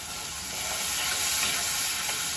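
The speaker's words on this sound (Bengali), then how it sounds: "হলুদ, লঙ্কা সব রকমের মশলা দিয়ে কষিয়ে নেব" Spices such as cumin, ginger, garlic, turmeric and chili sautéing in hot oil in a pan, a steady close sizzle and frying hiss that swells slightly midway, with no talk.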